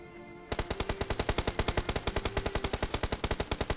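Rapid automatic gunfire in the PUBG Mobile shooter game, a steady burst of evenly spaced shots that starts abruptly and continues loud and close without pause, with no talk over it.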